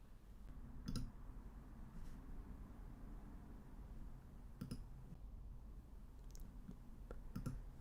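Several sharp computer mouse clicks, scattered and faint, sound over a low steady background hum, a couple of them close together near the end.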